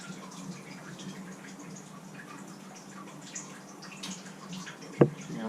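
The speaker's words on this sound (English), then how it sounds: "So we're letting clean cold water in." Clean cold water flowing into a tankless water heater during a vinegar flush, a quiet steady trickle and hiss throughout, with one brief clunk near the end.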